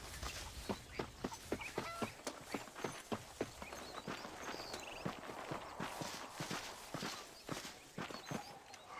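Horse hooves clip-clop at a steady walking pace on the ground in the Red Dead Redemption video game, the rhythmic footfalls fairly faint against soft ambient noise.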